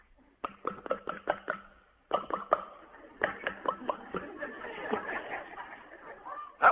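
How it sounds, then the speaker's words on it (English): A comedy hi-fi record effect of ketchup being put on a clam sandwich: a run of sharp, close knocks and taps in two bursts, then a denser rustling clatter with squelchy bits. "the sound of Luella Parsons at the Brown Derby putting ketchup on a clam sandwich in hi-fi"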